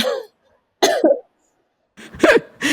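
A series of close, sharp coughs in short bursts separated by brief silences, with a throat-clearing quality.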